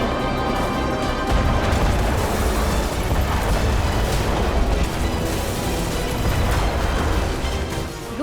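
Heavy bombardment in Odesa during the Russia-Ukraine war, a dense sustained roar of rumbling blasts and crashes with no clear pauses, loud and close throughout.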